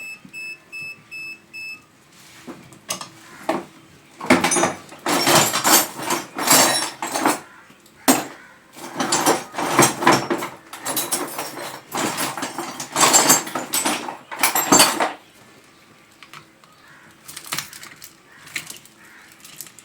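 Cracking and snapping of a plastic cover being pried open over the capacitor wiring of a semi-automatic washing machine, in several dense bursts of clicks and scrapes with brief pauses between, close and fairly loud, with no talk.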